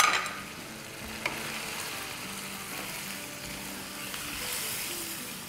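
Chicken sautéing with garlic, ginger paste, garam masala and red chilli powder for a tahari, frying over medium to medium-high flame; a soft steady sizzle with occasional stirring scrapes and light clinks, no talking.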